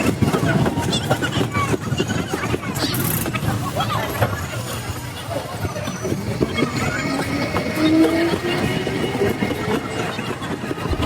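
Train running on a railway line near Barasat station, with a steady rumbling, rattling roar that fills the whole stretch at close range, while people talk and crowd babble goes on throughout.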